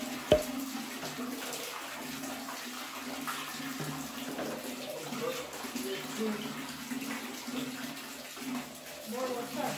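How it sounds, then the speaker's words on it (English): Hand stirring salt water for kimchi makes a continuous sloshing, trickling water sound close to the mic throughout, with a sharp knock near the start and a voice faintly audible in the background. "I already mix water and salt."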